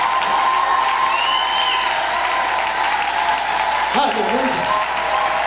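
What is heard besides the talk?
congregation applauding at a women's church conference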